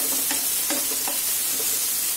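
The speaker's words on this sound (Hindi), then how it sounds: "इस तरीके से हमने इसमें सारे पनीर के टुकड़े डाल देने हैं और इसको थोड़ा सा हम फ्राई कर लेंगे" Paneer pieces frying lightly in a pan give a steady, close sizzle with a few soft stirring scrapes over it and no voices.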